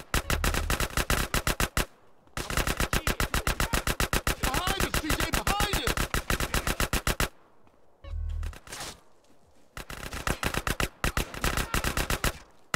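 Automatic gunfire from the video game GTA San Andreas in long rapid bursts, loud and close, broken by short pauses and a few muffled thuds, with a voice talking briefly in between.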